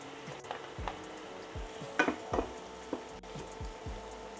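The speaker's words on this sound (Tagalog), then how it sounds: "I-add natin yung garlic at saka onions." Garlic and onions stir-frying with chicken in a pan, a steady sizzle broken by repeated scraping, clattering strokes of a stirring utensil, close and clear.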